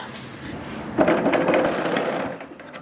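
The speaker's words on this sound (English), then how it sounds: "I'm going to go ahead and just serge that whole strip across both sides" Serger overlocking the edge of a linen fabric strip for a pullover top, starting with a soft hum and then running as a steady, fast motorized whir close by before easing off near the end.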